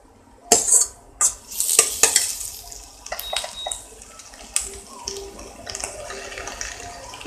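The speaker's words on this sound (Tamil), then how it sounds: "ஸ்வீட் கார்னையும் லைட்டாக வதக்கிங்க." Sweet corn gets stirred and lightly sautéed in a pan with ginger-garlic paste for sweet corn veg soup, with sharp scraping and clinks of a spoon against metal, irregular and close, amid soft sizzling.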